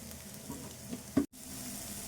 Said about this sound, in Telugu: చేపలు కూడా వేగుతాయి నూనెలో.